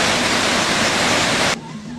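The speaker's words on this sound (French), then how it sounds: "Croisement de deux rivières" Broadband roar of rushing water at the confluence of two rivers in Haut Lomami, loud and continuous, then cutting abruptly to a much quieter background.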